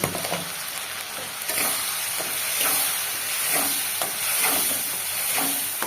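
Garlic paste fries in hot oil with a loud, steady sizzle and hiss, broken by several scraping stirs as it is cooked. Nobody speaks.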